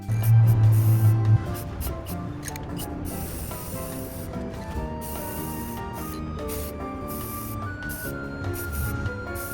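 Black high-gloss spray paint hisses steadily from a can onto a Halo helmet being built, one long continuous spray with music playing underneath.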